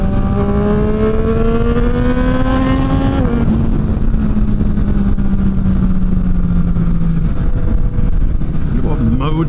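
A Ducati Streetfighter V2 or Triumph Street Triple RS motorcycle engine revs loudly and continuously up close, pitch climbing then dropping and settling, with wind noise over the ride.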